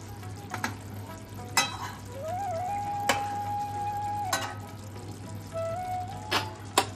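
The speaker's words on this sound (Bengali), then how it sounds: "এদিকে প্যানেতে তেল ভেসে উঠেছে, খুব ভালোভাবে মাছগুলো ফুটে গেছে" A steady low sizzle of chital fish belly pieces frying in oil in a pan, with occasional sharp clicks and a faint whistling tone drifting in the background.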